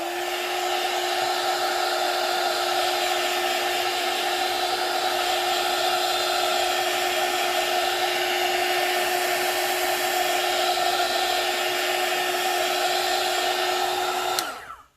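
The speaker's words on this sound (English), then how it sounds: "I think I'm going to turn on the heat gun again" A heat gun runs loud and close with a steady blowing roar and a high motor whine. It holds level for about fourteen seconds, then cuts off abruptly.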